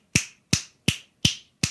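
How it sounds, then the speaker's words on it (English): Five crisp finger snaps ring out alone at an even, steady pulse, setting a tempo before a band's count-off, each one sharp and close with a quick decay. "The other thing I might do is snap my fingers for quite a long time before I actually do the count off"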